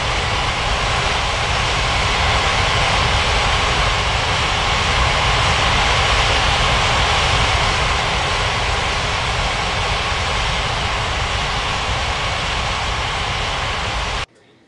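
A Malaysian airliner jet landing at Ngurah Rai airport in Bali gives a loud, steady engine roar that stays broad and unbroken for about fourteen seconds, then cuts off abruptly.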